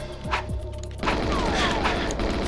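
Gunfire in a Nintendo 64 shooter, GoldenEye 007, Perfect Dark or Doom 64: dense, continuous shooting and booms fill most of the clip, starting sparse and then turning into a steady loud barrage.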